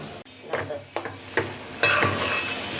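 Taro leaves (kochu shak) stir-fry with shrimp in a pan, heard as a steady close sizzle broken by a few sharp scraping stirs spaced about half a second apart, loudest near the end.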